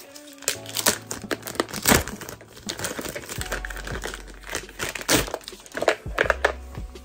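Clear plastic bag wrapped around Off-White earrings being handled and unwrapped, giving repeated close crinkles and crackles in irregular bursts, with no talking.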